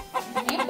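Hen giving a few short, close clucks in a quick burst of under a second, with no talking.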